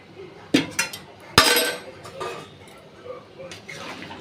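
A few sharp clinks and scrapes of a spoon against a pot of meat curry after hot water is added, with several spaced knocks and a louder clank near the middle over a quiet room.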